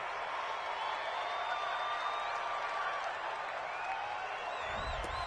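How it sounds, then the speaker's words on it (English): Home crowd in a football video game cheering and applauding a penalty call, a steady, moderately faint wash of crowd noise throughout, with a brief thump near the end. "This home crowd, they're happy with that call."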